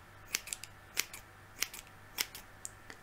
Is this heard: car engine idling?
no